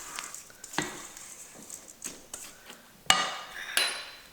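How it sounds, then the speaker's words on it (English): Crab cake ingredients with panko breadcrumbs being mixed in a bowl: scattered soft stirring scrapes and a few sharper clinks of utensil against the bowl, quiet and close with gaps between strokes. "Mix that all with our other ingredients."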